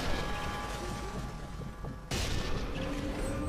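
A dynamite explosion in the video game Sniper Elite 3, a sudden loud burst partway through that lands on dense, rumbling game noise and stays heavy afterward.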